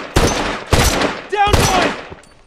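Rifle gunfire in The Last of Us multiplayer: three loud, sharp shots spaced about half a second apart, each with a short ringing tail, and a brief shout between the last two.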